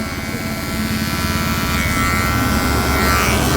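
An electric hair trimmer fitted with a number 2 comb buzzes steadily and close up as it cuts hair, a continuous motor hum that rises slightly in intensity with no talking.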